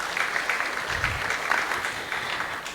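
Devotees at a Sunday Love Feast give the cooking team a round of applause, a brief, steady patter of many hands clapping at moderate volume in a hall.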